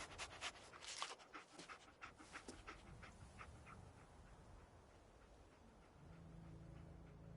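Dogmeat, the dog in the video game Fallout 4, pants quickly and rhythmically up close, fading to a quieter, steadier pant over a low ambient hum, with no speech.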